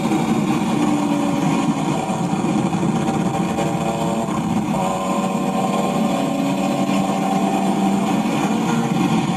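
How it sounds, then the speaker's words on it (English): A BMW M3 dressed with M3 CSL parts runs steadily on crowded streets, its engine and exhaust holding a continuous, fairly loud drone throughout with no talking. "You can hear his exhaust."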